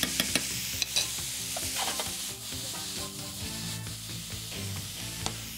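Mushrooms sizzle and fry in a pan while being stirred, with steady crackling and repeated scraping stir strokes close by, no talking.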